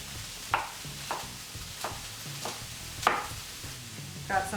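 Carrots and celery tumble into an oiled pan in a home vegan kitchen, giving several separate clattering drops and scrapes spaced about a second apart over a faint low sizzle.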